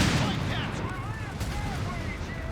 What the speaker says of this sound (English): We're moving forward with this 90mm high velocity gun.